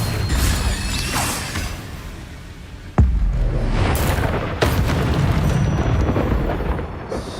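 Incendio fire spell blasts in Hogwarts Legacy, a loud rushing fiery roar with sharp booming impacts and whooshes over continuous game effects.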